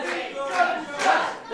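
Crowd at a PEW wrestling show chanting and shouting in rhythmic surges, about three swells of massed voices, loud and close.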